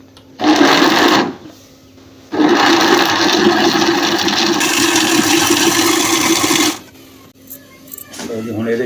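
Mixer grinder blending falsa berries with water: a short loud whirring burst, a pause, then a longer steady motor roar of about four seconds, close up, followed by quieter clatter.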